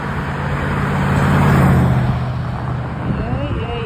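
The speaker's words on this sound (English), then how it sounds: "Love to watch the traffic" Road traffic rolls past nearby as a broad wash of vehicle noise that swells and fades, with a voice talking over it.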